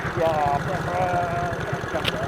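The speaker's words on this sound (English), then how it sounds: "the bike's idling a lot better now since we did some adjustments" A Honda Cub C65 motorcycle engine idles close by, a low, rapid putter that runs steadily underneath as a voice talks over it.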